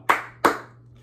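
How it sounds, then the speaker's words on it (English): Two sharp, loud hand claps about a third of a second apart, close by, ringing out briefly in a quiet room with no voices. "Let's give yourself a power clap on the count of three."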